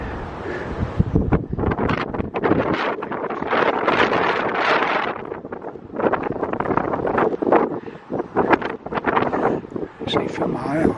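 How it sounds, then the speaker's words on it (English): Gusty wind buffeting the microphone at an exposed hilltop war memorial in Frodsham, a continuous loud rumbling roar with surges and brief dips throughout. "little bit windy"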